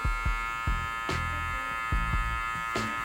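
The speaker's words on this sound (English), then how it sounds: "And I'm guiding the clipper outwards, trying to follow the direction of his head." An electric hair clipper hums with a steady buzz during a burst fade, its tone dipping and thumping repeatedly as the blade passes through a client's hair, close and continuous.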